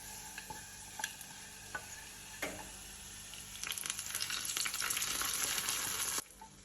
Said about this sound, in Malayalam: നമുക്കതിനെ ഇളക്കി കൊടുക്കാം.